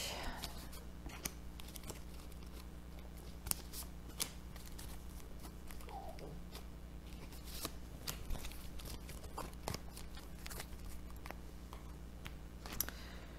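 Playing cards dealt one at a time onto a table during a French card game, soft flicks and slaps spaced irregularly over a steady low hum, with faint whispering in places.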